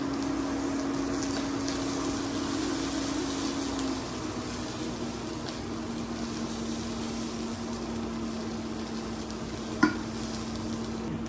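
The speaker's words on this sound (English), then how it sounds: "the rice is still continuing to toast, just now it's with the aromatics" Rice toasting with aromatics in a pan for Mexican rice, stirred steadily with a spatula; a continuous soft sizzle and scraping runs throughout at close range, with a single sharp knock near the end.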